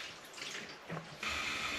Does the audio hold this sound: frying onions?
no